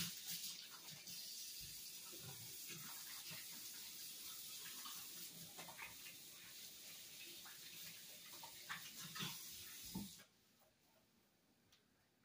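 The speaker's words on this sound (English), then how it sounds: "Let me wash my hands right quick." A kitchen faucet runs steadily as hands are washed beneath it, a constant soft rush with faint splashes, lasting about ten seconds before cutting off; no one speaks.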